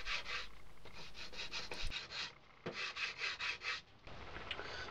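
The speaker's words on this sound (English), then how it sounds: "I give it a quick sand to sand up the saw marks" Sandpaper rasps against a wooden bookend piece in quick hand strokes to smooth away saw marks, the back-and-forth scrubbing coming in close, rhythmic bursts with brief pauses.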